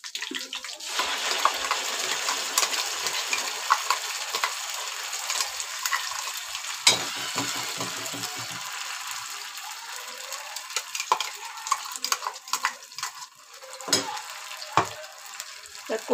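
Hot tempering for a dry fish curry crackles and hisses loudly in a pan, a dense sustained sizzle with sputtering pops that briefly drops back before flaring again toward the end.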